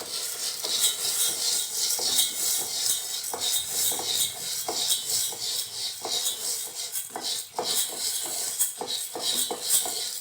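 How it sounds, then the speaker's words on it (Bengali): Whole green mung beans are dry-roasted and stirred in a wok, giving repeated close scraping and rattling strokes of a spatula against the metal, with light clinks, steady and without talk. "ভেজে একটু নাড়বো"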